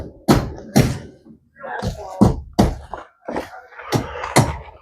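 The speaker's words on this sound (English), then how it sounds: "in here knocking a hole in the wall." Repeated heavy blows knocking a hole through a house wall during renovation, loud close thuds in uneven bursts with short gaps, some faint voice-like groaning between hits.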